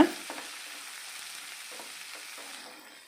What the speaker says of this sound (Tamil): வெங்காயம் ஓரளவுக்கு வதங்கி வரணும் நல்லா மிக்ஸ் பண்ணி விடுங்க